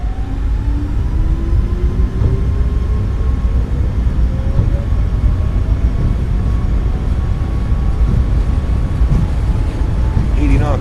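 Boeing 737 MAX 8 engines spooling up to takeoff thrust in a flight simulator, a loud steady roar with rising whine tones that climb over the stretch, continuous and close throughout.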